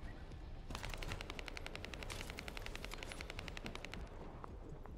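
Rapid automatic gunfire from other players in The First Descendant rattles in sustained bursts with evenly spaced shots, loud and steady across the clip with a busy game backdrop.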